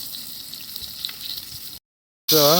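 Fish frying in hot oil: a steady, soft hiss and crackle of sizzling that continues for a couple of seconds, then cuts to silence, followed by a brief warbling tone.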